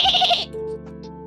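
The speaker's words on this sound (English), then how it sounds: "Why my goats sound like that?" A goat bleats once, a loud, close, wavering cry that cuts off abruptly, followed by quiet tonal background sound.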